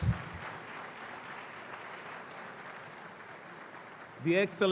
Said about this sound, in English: I would like us to give another round of applause to the excellent